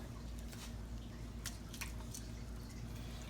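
Braised beef shoulder going back into a pot for a hot roast beef sandwich, giving soft wet squishes and drips over a steady low hum, close and fairly quiet.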